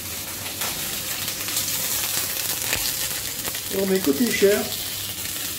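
Capon pieces brown in a frying pan with a little capon fat, a gentle continuous sizzle with some crackling as meat goes in, under a brief spoken line.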